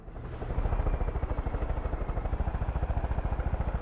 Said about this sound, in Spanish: ahora tengo un helicóptero